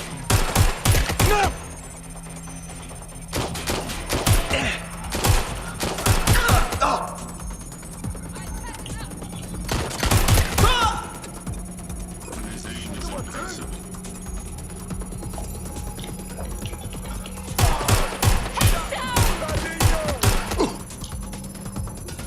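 Bursts of rapid automatic gunfire in the video game Esp1, several loud clusters of shots spread across the stretch with quieter gaps between, over a constant electronic hum.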